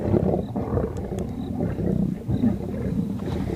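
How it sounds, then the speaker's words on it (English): Lions roar and growl in deep, continuous rumbling waves at close range, with faint wind noise behind them and no voices. "I'm just moving my microphone closer to the lions roaring or growling again, so you can hear it nicely"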